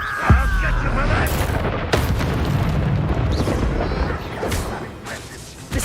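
Confringo fire spell explosions in Hogwarts Legacy, a burst of booming blasts with crackling debris rolling on under continuous combat noise, with a voice briefly audible.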